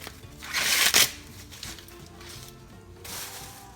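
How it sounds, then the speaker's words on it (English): Husk being peeled off a fresh ear of corn in a kitchen, with close crackly tearing and rustling, loudest at first and then lighter papery rips. "And you peel your corn."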